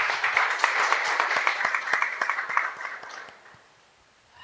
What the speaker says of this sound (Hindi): जोरदार ताली बजाएंगे परमेश्वर के।